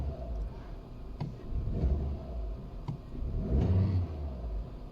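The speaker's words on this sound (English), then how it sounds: "Okay, now the engine is running." A warm petrol car engine that misfires when cold runs steadily at idle, a low continuous rumble with slight swells in revs, close and fairly loud with no talk over it.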